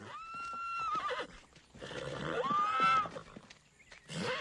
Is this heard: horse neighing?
yes